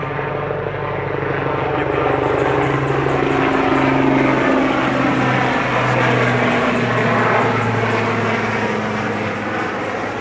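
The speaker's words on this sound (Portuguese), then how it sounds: "São os helicópteros que dão apoio à Petrobras, essa grande empresa brasileira" Helicopters supporting Petrobras operations fly overhead in Macaé, a loud steady rotor drone with rhythmic blade chop that holds throughout, no talking.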